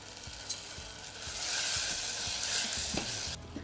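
Pineapple pieces cooking down into a jam in a hot pan, with a steady sizzle and a few stirring scrapes and knocks, ending in a brief quieter moment.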